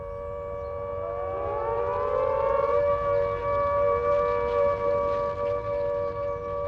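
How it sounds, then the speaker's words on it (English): Wartime civil defense air-raid siren sounding the all clear, a steady sustained wail that rises at the start then holds loud and unbroken for several seconds, with faint background noise and no talk. "they sound the all clear"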